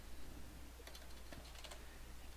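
Faint keystrokes on a computer keyboard while typing in Japanese input mode: a quiet run of light clicks in a short burst midway, with no talking over a low background hum.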